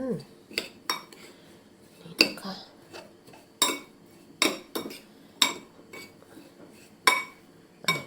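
A utensil stirs dashi powder and soy sauce together in a bowl, tapping and clinking against the sides in a string of sharp, irregular knocks, close and clear over quiet.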